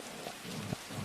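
Steady rain falling in a dense, even hiss, with a few soft low rumbles, brief and fairly quiet.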